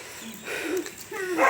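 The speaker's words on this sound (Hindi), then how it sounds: "यहाँ पे कुत्ता भौंक रहा है हमारे लिए" A dog barks and yips in a short, moderately loud burst outdoors in the hills of Uttarakhand, with goats and a bull nearby.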